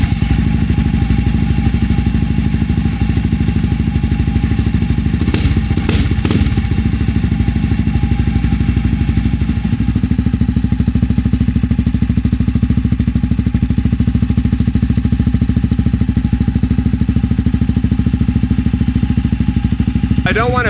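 Honda CRF250F dirt bike fitted with a Tuscany Racing exhaust idling close by, a loud, steady throbbing putter with a short burst of clatter midway.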